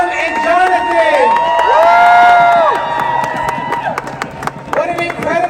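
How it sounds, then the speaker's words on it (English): Rally crowd cheering, shouting and clapping loudly, with many overlapping voices swelling into a sustained roar and scattered whoops, then settling into lighter applause before another rise of cheers. "Let's hear another round of applause for Autumn and Jonathan."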